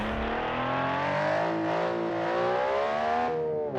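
A racing car in an autocross video game, its engine holding a loud, steady, close high-revving drone with slight pitch shifts as it accelerates and eases off, no talking.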